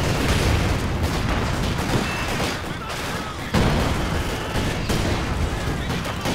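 Mortar and gunfire barrage in a Company of Heroes battle: a dense, continuous wash of booming blasts and crackling shots, loud and steady, with a sharp impact near the middle.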